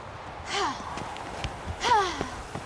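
Heavy, rhythmic breathing while running in The Witcher 3, close gasping breaths and sighs over faint footsteps.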